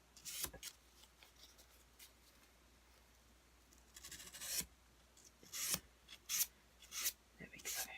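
A knife blade is worked over 600-grit sandpaper in faint, irregular rasping strokes, quiet at first and then coming in quicker bursts of scratchy rubbing.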